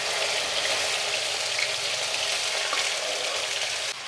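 Okra frying in hot oil with mustard seeds, a steady close hiss and crackle of sizzling that runs without a break and drops slightly at the very end, with no voices.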